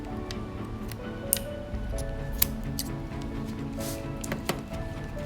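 A mirror's rubbery seal being cut close up, sharp snipping clicks and small crisp ticks scattered over a low background hum, a few louder snaps standing out, no speech.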